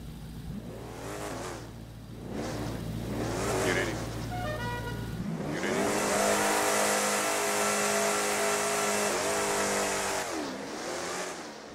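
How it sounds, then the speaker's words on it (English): Cars revving and accelerating in a GTA V drag race, engines rising and falling through repeated gear sweeps before a sustained louder roar as they pull away. "That's a drag race, gents."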